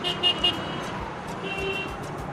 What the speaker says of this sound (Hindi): इतना सारा ट्रैफिक